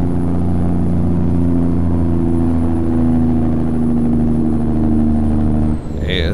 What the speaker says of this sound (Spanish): Sigue siendo bajada, así que vamos a ir aplicando freno de motor.